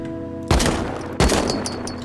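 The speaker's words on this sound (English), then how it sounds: "See, I'm shooting there." Two sharp gunfire onsets ring out in the survival game Rust, each loud and close, followed by rattling shots and trailing echo that carry through the short stretch.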